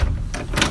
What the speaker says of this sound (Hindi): चाचा ने दरवाज़ा खोला